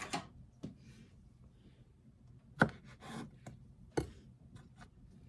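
Knife slicing the end off a roasted eggplant on a board, with a few sharp, close cutting taps and scrapes spaced out between quiet pauses.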